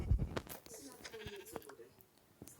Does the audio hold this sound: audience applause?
no